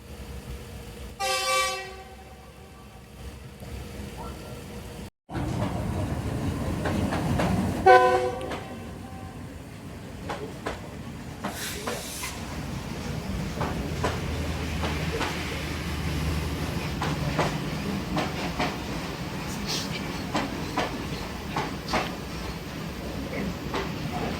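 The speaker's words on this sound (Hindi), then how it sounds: "कराक्रम एक्सप्रेस 41 अप एंटर हो चुकी है सफदराबाद स्टेशन पे।" The Karakoram Express pulls into Safdarabad station, sounding two loud horn blasts a few seconds apart, followed by a sustained, heavy rumble of rolling train cars that fills the rest of the scene.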